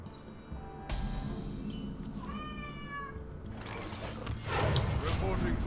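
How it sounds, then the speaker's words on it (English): Cat meowing indoors, a drawn-out wavering cry in the middle of the clip, heard near and fairly clear over steady background noise and a voice. "Crazy cat."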